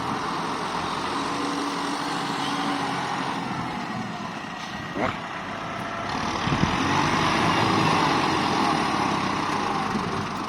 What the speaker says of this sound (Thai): กับรถไถ MU 5702นะครับ